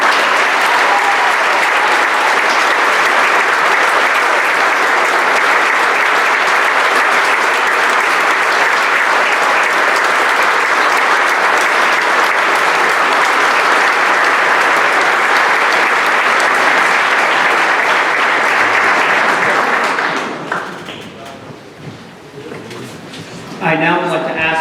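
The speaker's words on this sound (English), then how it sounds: "I think we all should give him a round of applause." A large audience at a college prize night breaks into loud, sustained applause that fills the hall steadily for about twenty seconds before abruptly dying away into quieter room noise.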